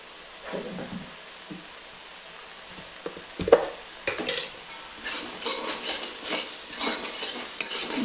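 Cauliflower simmers with tomato puree in a pan for a Bengali phulkopi roast, sizzling quietly while a spoon scrapes and stirs in uneven strokes, with several sharper knocks against the pan and busier stirring toward the end.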